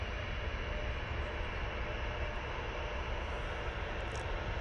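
A Ryanair jet taxis toward a runway intersection at Manchester Airport, a steady, moderately loud broadband engine rumble and hiss heard continuously from a distance outdoors.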